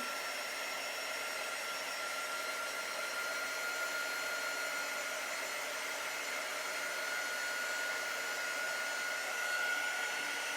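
A hair dryer blows steadily on a chalk-decorated wooden cutting board, a constant loud whirring hiss with a faint tonal whine that holds unchanged for about ten seconds, with no talking.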